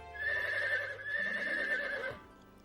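A cartoon mare gives a long, clear, wavering whinny lasting about two seconds, fairly close, then fades out with a low rumble beneath it.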